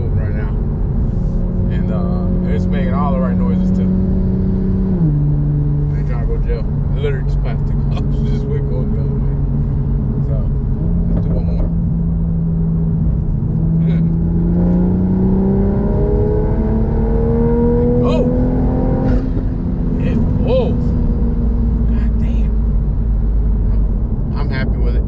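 A tuned 2020 Toyota GR Supra runs loud and close from inside the cabin, its engine drone climbing and shifting in pitch through several gear changes under sustained acceleration, with constant road roar beneath.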